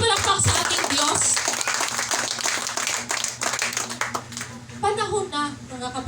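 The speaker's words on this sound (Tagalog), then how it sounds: "Malakas na palakpak sa ating Diyos" A congregation at a Sunday worship service claps loudly in a dense, sustained burst for several seconds. The applause thins out near the end as a voice begins speaking over it.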